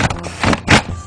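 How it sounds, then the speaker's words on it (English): Wheel nuts spun by hand onto the studs of a car wheel while a brake disc rotor is fitted, giving a few short metallic scraping and rattling bursts close by, with no talk. "we now gently just run the wheel nuts up until they"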